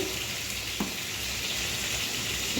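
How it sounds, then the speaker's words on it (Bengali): Potato pieces fry in a pan with food colouring and a little salt, giving a steady close sizzle throughout, with a brief scrape near the middle and another at the end. "আমি এখানে আলুটা বসিয়ে দিয়েছি, একটু ফুড কালার আর একটু সামান্য নুন দিয়ে এখন এটা ভাজা ভাজা করব।"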